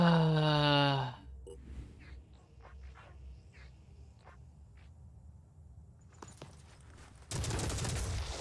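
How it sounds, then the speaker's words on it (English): Machine gun in Phoenix Point fires a short burst of rapid shots at the end, loud and close, after a stretch of quieter game sound effects and faint background noise. "I forgot, this is the machine gun."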